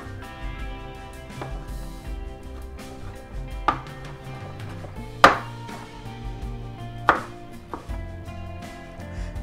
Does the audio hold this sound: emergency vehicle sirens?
no